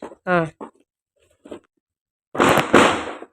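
A bush firework, the flower-pot kind, set off during home Diwali celebrations erupts in a loud, sustained hissing spray of sparks lasting about a second, preceded by brief talk and faint crackles.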